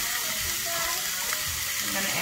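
Pork chops and potatoes sizzle on low heat in a pan, a steady close-up hissing crackle that carries on without a break, with some talking faintly underneath.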